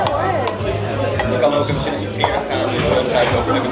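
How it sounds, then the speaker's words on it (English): A spoon cuts Italian food on a plate at a restaurant table in Venice, with light clinks and scrapes of cutlery and dishes mixed into steady background chatter and room noise. "Okay, so he's cutting it up with his spoon."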